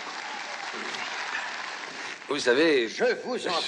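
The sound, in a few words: applause from an audience, in a film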